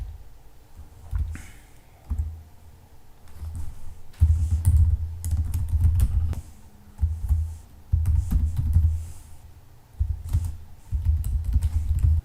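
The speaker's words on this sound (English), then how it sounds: "Let me type the rest of the code and I will explain it later on." Code being typed on a computer keyboard in bursts of rapid key clicks, with short pauses between runs of fast typing, close and fairly quiet with no talking.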